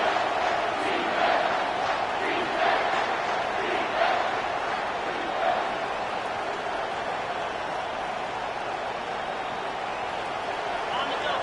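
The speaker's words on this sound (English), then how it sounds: "Here comes this home crowd as the defense tries to get off the field on 3rd down." A home crowd roars at an American football game on third down, a loud sustained wall of cheering and shouting from a large stadium audience throughout.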